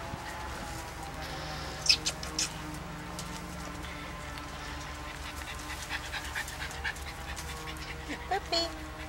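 A puppy whimpers and pants softly at close range, with a few brief higher whines and small yelps over a quiet indoor background. A person speaks at times.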